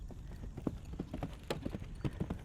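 Horse hooves trot steadily on an arena surface during a jumping exercise, giving soft, evenly spaced clip-clop beats at close range with no talking.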